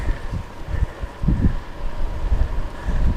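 Gusty wind buffets the microphone outdoors in loud low rumbling bursts that swell and drop irregularly, with no speech over it.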